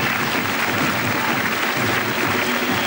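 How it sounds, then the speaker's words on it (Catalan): An audience at the 1995 Vinaròs carnival applauds the carnival queens on stage, a dense, steady wash of clapping that holds loud from start to finish. "Un aplaudiment per a elles."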